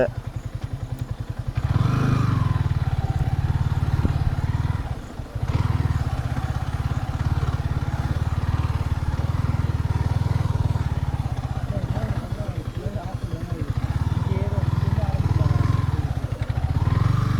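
A motorcycle engine running steadily on a trip out to an abandoned quarry in Chennai, a loud continuous low rumble with a brief dip near the middle, with people talking over it.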